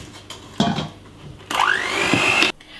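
An electric mixer whirs in short bursts as it beats butter, sugar and egg for a chocolate cake batter, a brief run followed by a longer, louder spell with a rising whine.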